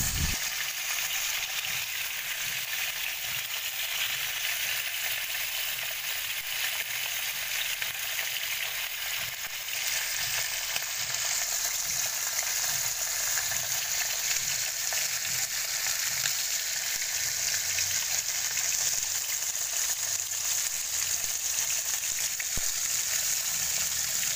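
Salmon fillet frying in a hot pan, a steady loud sizzle and crackle running continuously with no voices, brief spitting pops scattered throughout.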